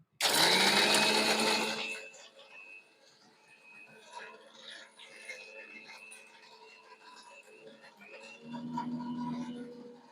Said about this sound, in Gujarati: તો હવે છે ને મિક્સર જારમાં હું પીસી લઉં છું